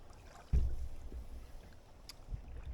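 A paddle stroke in water from a Swift Wildfire canoe with a chamois-bound paddle on the river between Dedham and Flatford: one sharp splash, a softer second stroke, light wind behind.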